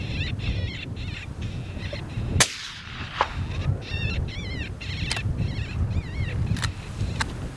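Rifle shots ring out during a coyote hunt: a few sharp cracks spaced seconds apart, heard over steady outdoor noise with birds calling nearby.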